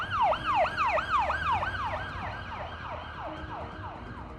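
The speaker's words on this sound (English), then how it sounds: "Almost immediately we can hear the hum of sirens." A wailing siren sweeps rapidly up and down in repeated cycles, loud at first and gradually fading slightly, with low traffic rumble beneath.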